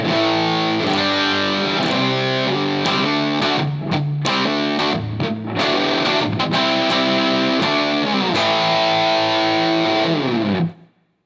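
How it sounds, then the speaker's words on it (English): Heavily saturated electric guitar with the distortion pedal fully cranked, thick sustained chords played loudly before stopping abruptly. "let's hear the pedal cranked."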